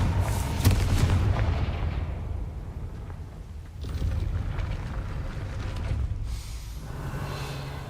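Confringo fire spell blast in a Hogwarts video game, a deep booming explosion with a rumbling tail that fades, then a second softer blast and lingering low rumble.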